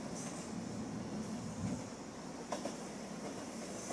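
An express train rushes through a station at speed, a loud steady roar of wheels and rail noise lasting throughout, with a faint clatter of wheels on joints partway through.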